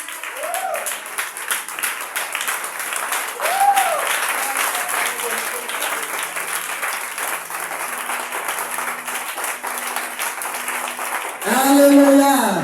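A church congregation applauds and cheers for God, steady crowd clapping filling the room throughout, with a preacher's voice calling out over it and a louder swell of cheering near the end.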